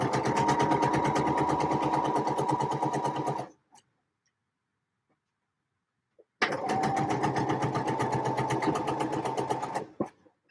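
Sewing machine stitching seams of a lemon dress in two steady, rapid runs of close mechanical ticking, a near-silent pause of about three seconds between them.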